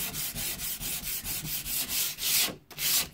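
Sandpaper rubs back and forth over a painted wooden board in an even, rhythmic scrubbing pattern, close and fairly loud, with a brief pause before the strokes resume.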